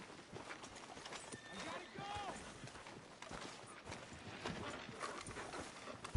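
Horse hooves clip-clopping at a steady pace in the Red Dead Redemption 2 video game, a quiet rhythmic clatter running beneath game dialogue and background sound.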